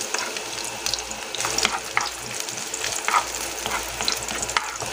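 Onion and garlic sautéing in hot cooking oil for a Filipino sardine dish, a steady close sizzle and crackle with scraping stir strokes and faint watery clatter throughout, no talking.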